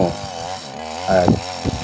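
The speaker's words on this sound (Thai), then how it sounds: "เพราะว่าเฮาใส่เป็นเลื่อยเครื่องนะครับ" A motor chainsaw cutting down a coconut palm, its engine buzzing loud and close with a wavering pitch that dips and rises as the chain bites into the trunk.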